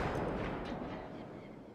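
A single gunshot fired at a red sign in The Last of Us Part II, a loud boom up front whose rumbling echo fades slowly across the outdoor game scene.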